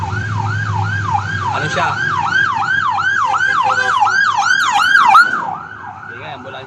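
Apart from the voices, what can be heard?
ambulance siren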